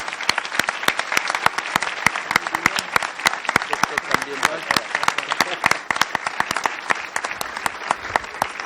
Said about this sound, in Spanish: un fuerte aplauso a estos señorones